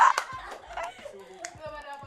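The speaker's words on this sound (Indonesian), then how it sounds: "Tepuk tangan semua." A few distinct hand claps, close and sharp, spaced irregularly among chatter and light laughter from people talking nearby.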